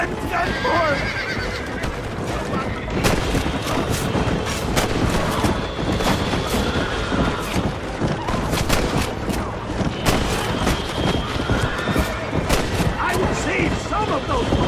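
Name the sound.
gunfire in a shootout, from the video game Red Dead Redemption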